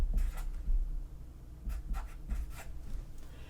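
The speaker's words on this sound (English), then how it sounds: "So I just wrote that answer down right here." Pen or pencil writing out a physics answer on paper, a series of short close scratchy strokes in quick bursts with brief pauses, no talking.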